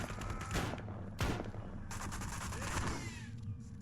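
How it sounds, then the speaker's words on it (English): Rapid gunfire bursts from shooting police in the video game Postal Redux, loud and dense, with sharp broadband cracks standing out over a continuous clatter of shots throughout. "we start off by shooting the police"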